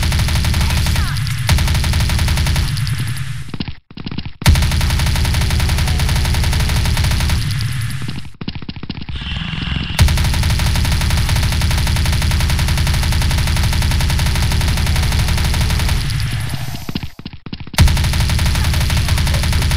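Sustained automatic fire from a machine gun in the shooter game Truy Kích, loud, dense bursts running almost continuously with a few short pauses, and no talk over it.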